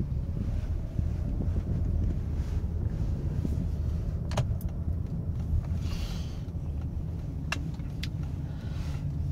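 A 2002 Lexus ES300 with 31,000 miles rolls along in drive, giving a low, steady road and engine rumble with some wind buffeting and a few light clicks, with no talking.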